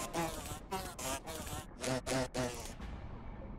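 Insects buzz near the hornet's grotto in a video game, in several loud, close droning bursts with short gaps between them. The buzzing then fades to a quieter hum.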